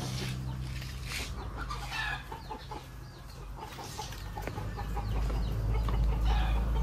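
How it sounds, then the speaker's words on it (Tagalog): Chickens cluck in short, scattered calls on an egg-layer farm after a typhoon, set against a constant low rumble that grows louder toward the end. "ibang manok po yan, hindi po yan layer."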